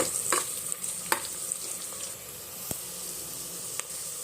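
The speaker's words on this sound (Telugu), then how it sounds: "ఆయిల్ వేసుకొని ఆయిల్ వేడైన తర్వాత ఆనియన్ ఫ్రై చేయాలి." Onions fry in hot oil for a mutton and potato curry, a soft continuous sizzle broken by sharp spatula scrapes and clinks against the pan, close by, with no talk.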